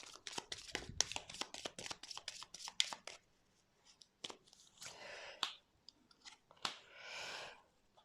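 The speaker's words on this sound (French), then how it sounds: "je vais mettre quand même quelques cartes dessus pour voir un peu la finalité" Tarot cards are shuffled, slapped and laid out on a table in quick papery snaps and flicks, then a few softer sliding card sounds, close and with no talking.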